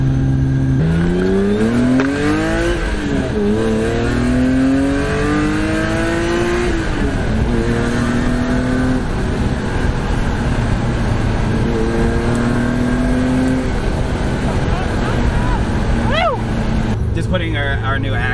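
BMW E34 M5 with a race engine circling on a drive, its engine loud and close throughout, pitch rising and falling as it accelerates and revs, with a brief tire squeal near the end.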